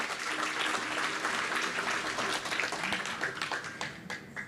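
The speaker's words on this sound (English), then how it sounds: "Please give that performance a huge round of applause once again." A meditation-event audience in Bahrain claps after a stage performance, sustained, even applause filling the room from a close crowd, with no voices.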